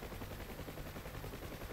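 Huey helicopter gunfire in a combat flight simulator rattles in fast, dense bursts of shots. It is fairly faint and steady, with no voices over it.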